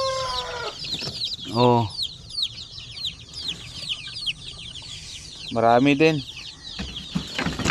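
A crowd of newly hatched shamo, aseel and zampen native chicks peep constantly in high, rapid chirps, while someone speaks briefly twice over them.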